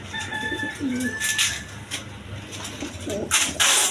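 A pair of Bombay pigeons coo softly nearby among other birds, with soft low calls and a few higher whistles over a faint background murmur.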